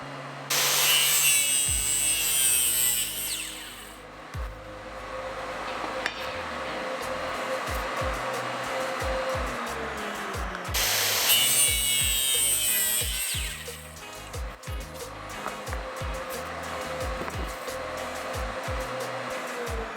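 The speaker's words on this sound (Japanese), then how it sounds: "一旦直角に切って一つ一つパーツをばらして、それから各パーツ角度を決めて切っていきます。" Wooden parts for a giant wooden Gundam are cut at right angles, with loud, close sawing and rubbing through wood, two surges of harsher whining cutting, and scattered knocks between strokes.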